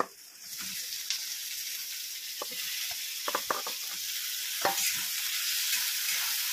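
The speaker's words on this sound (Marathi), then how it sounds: "तर आता आपण त्यामध्ये टोमॅटो टाकून घेऊया." Tomatoes sautéing in a pan give a steady hiss of frying, broken by occasional light clicks and scrapes from stirring, close and without talk.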